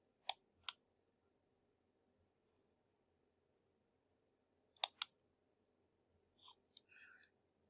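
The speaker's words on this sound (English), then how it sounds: "And now I can click save and move forward." Computer mouse clicks while saving an entry, sounding as two quick pairs of sharp, close clicks in a quiet room, followed by a few faint soft ticks.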